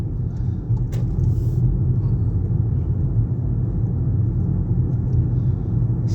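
A car drives through town streets in Halifax, heading from the railway station toward Mixenden, with a steady low engine and road rumble throughout and a brief faint higher noise early on.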